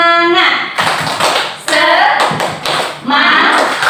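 A group claps the rhythmic 'tepuk semangat' spirit clap in patterned bursts, loud and close, with voices talking and chanting over the claps.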